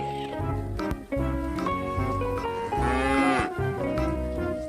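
A water buffalo moos repeatedly, low and drawn out, layered over background music with no talking.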